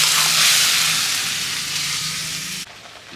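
Spices and gravy fry in a hot pan with a loud, steady sizzle and hiss that eases slightly toward the end, then drops abruptly near the close.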